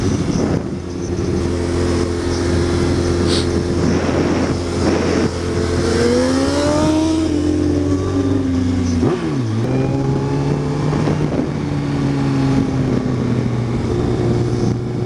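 A Kawasaki ZX14 motorcycle engine idles with a steady low drone, then revs in rising and falling sweeps, dips sharply, and settles back to a rougher idle, loud and close with no voices.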